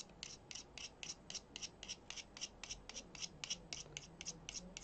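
A knife scraping graphite powder off a graphite stick in quick, evenly spaced rasping strokes, about a dozen close, faint scratches in a steady rhythm with no talking.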